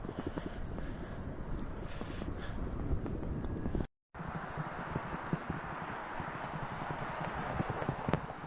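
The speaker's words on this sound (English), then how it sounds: "There is a wind out there" Wind blows across an open airfield on a cold day, a constant rough rumble of gusts buffeting the microphone with a brief dropout partway through, no voices.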